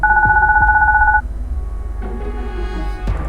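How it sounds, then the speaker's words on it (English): A baby phone rings in the Deponia video game with a steady two-tone electronic trill lasting just over a second, followed by quieter in-game background sounds. "my baby phone's ringing"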